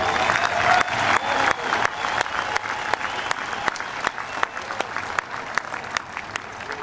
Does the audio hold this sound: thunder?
no